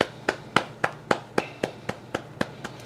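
Steady hand clapping, about ten sharp claps at an even pace from a single pair of hands, close and clear with no voices.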